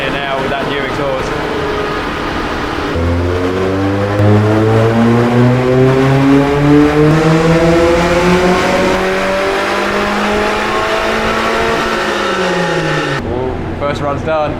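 A modified project car with a new exhaust revs hard on a rolling road, its loud engine note climbing steadily through the gears and then dropping off, with a brief burst of lower revving at the start and end.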